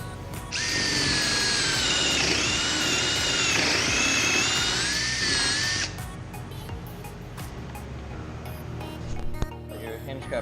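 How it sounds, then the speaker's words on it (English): A power drill whines steadily for about five seconds, bright and close, drilling into wood, then cuts off, leaving faint handling clatter. "And then we'll drill that out."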